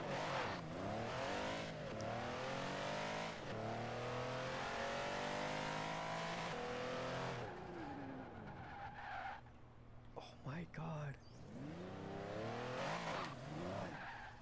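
A car's engine revs hard and its tyres skid and squeal in Forza Horizon 4, the loud, continuous engine note rising and falling for most of the stretch, with a quieter patch before it surges again.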